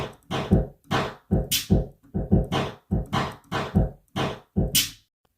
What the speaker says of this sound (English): Final drum kit sounds like this.